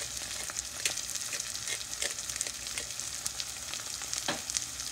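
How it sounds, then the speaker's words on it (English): Black beans with black pepper being stirred in a frying pot for Haitian-style beans, a steady close sizzle with soft scraping stir strokes and occasional clicks of the spoon against the pot. "And then we're going to stir."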